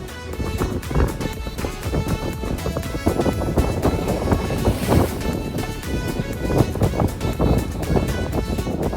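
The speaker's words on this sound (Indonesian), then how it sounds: "Lihat nggak friends, ombaknya besar kan? Anginnya tuh kencang banget saat itu." Strong wind and heavy waves batter a small fishing boat at sea off Tanjung Lesung during the south wind season, a loud, constant roar with buffeting gusts and repeated thumps of water against the hull.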